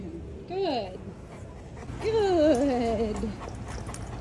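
A big protection dog whimpers in two drawn-out, high whining cries with a short gap between them, close by, while a voice talks quietly in the background during a public socializing outing.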